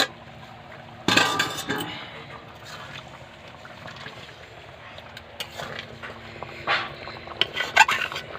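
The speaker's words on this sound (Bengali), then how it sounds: "এবার ঢাকনাটা তুলে নেব" A lid lifted off a pot of arum with pakal (eel) fish: a sharp metallic clink and scrape near the start, then low kitchen rustle with a few light clinks of pot and utensil later on.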